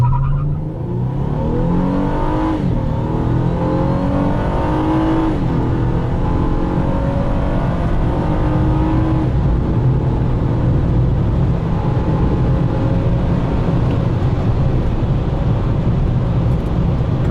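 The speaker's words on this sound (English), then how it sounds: "this is a 2014 Honda Accord V6 with the K-Tuner Stage 1" A 2014 Honda Accord V6 with a K-Tuner Stage 1 tune accelerates hard from inside the cabin. The engine note climbs steadily through a long, loud pull with no talking.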